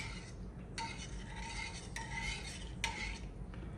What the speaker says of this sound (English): Get that all nice and stirred in.